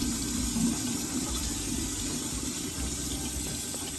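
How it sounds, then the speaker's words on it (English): Cold water runs steadily from a kitchen tap over frozen shrimp in a strainer, a continuous close splashing hiss with no talk. "I'm gonna let the water run so that it can thaw out."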